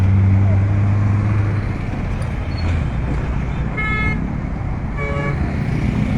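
Heavy traffic rumbles steadily on Lagos's Third Mainland Bridge, a dense low drone of engines with a couple of short car horn toots near the end, close and loud.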